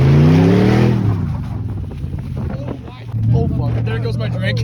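A Subaru BRZ drives through falling snow during a snowstorm, its engine note rising and falling with a loud whoosh of wind, while people talk and shout nearby.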